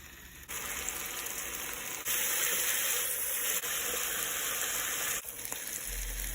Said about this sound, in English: You can just hear that sizzle